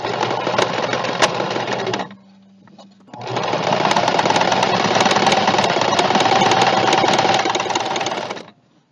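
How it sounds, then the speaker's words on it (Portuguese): A sewing machine backstitches around the edge of a baby towel, running in a fast buzzing burst, pausing for about a second, then stitching steadily again before stopping, close and loud. "eu inicio com o nó, ou seja, o retrocesso da máquina"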